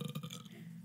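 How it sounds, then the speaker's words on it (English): A person lets out a short, low, gurgling burp at close range, loudest at the start and trailing off within a second, with no talking over it. "Stop burping in front of our guest."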